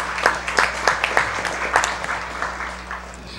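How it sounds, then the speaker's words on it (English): A few people in an audience clap for museum and library staff, a sparse, fairly near patter of individual claps with distinct separate hits over a low steady hum, tapering slightly toward the end. "Let's give them a round of applause."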